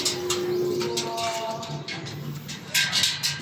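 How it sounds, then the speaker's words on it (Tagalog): Soft, low pigeon coos roll in overlapping phrases with rustling and scraping close by, as the birds murmur together. "Ito ang ating mga kalapating isa"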